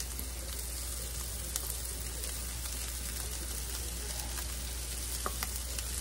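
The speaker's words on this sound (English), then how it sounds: "I'm going to go ahead and take this rice and dump it in here." Rice tipped into a hot pan for Texas red rice sizzles in a steady, dense hiss that holds for several seconds, close and even, with a few faint clinks and stirring scrapes mixed in and no talking.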